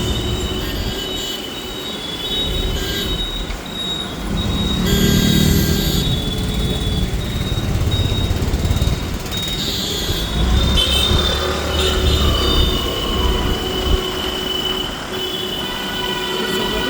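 A train rolls along railway tracks at close range, its steady rumble and wheel squeal filling the whole stretch with no talk over it.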